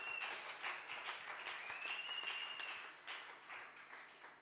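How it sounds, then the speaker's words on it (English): A church congregation claps hands for Jesus, a faint, distant, continuous patter of many hands with no clear individual beats. "Can you clap your hands for Jesus?"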